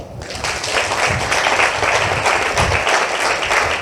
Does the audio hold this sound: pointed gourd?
no